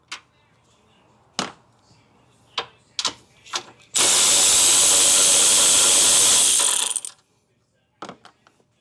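Pneumatic impact gun on the front strut bolts of a 2007–2011 Honda CR-V, one loud sustained hammering burst of about three seconds, framed by short clanks and taps of tools before and after in a garage.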